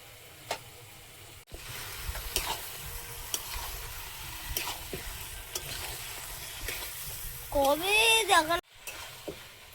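Chicken pieces fry and get stirred in a pan for a village-style chicken curry cooked over a coal fire, with a soft sizzle, repeated scraping clinks from the spoon, and a brief voice near the end.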